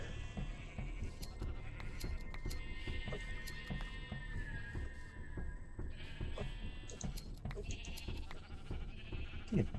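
Sheep in the video game TerraFirmaGreg bleat repeatedly, several wavering calls overlapping amid a busy layer of clicks and game ambience over about ten seconds, with no talking.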